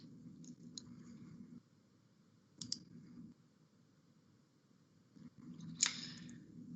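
A computer mouse gives a few sharp, faint clicks, single and in pairs, spaced a couple of seconds apart over quiet room hum while data software is being used.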